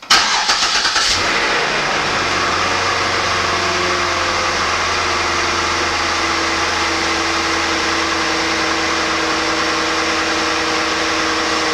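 A 2005 Cadillac STS engine starts with a brief crank and fires straight into a loud, steady idle hum that carries on evenly, close up and without voices.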